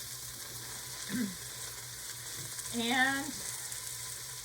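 Diced onion added to browned beef in an Instant Pot gives a soft, steady sizzle of frying under a brief spoken word and a short vocal sound.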